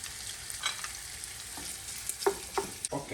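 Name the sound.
Italian hot sausage frying in a pan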